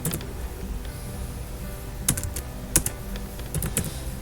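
Typing on a computer keyboard: a run of quiet key taps with a few sharper, louder clacks spaced irregularly, close and with no talk over them.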